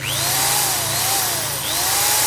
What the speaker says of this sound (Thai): ตัวที่สามก็เป็นสว่านสามหุ่นนะพี่นะ ปรับซ้ายขวาได้